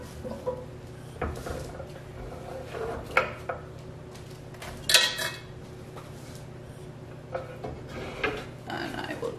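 Chopped carrots and onions tumble into a cast iron roaster, giving scattered clunks and light clatters over a low kitchen background.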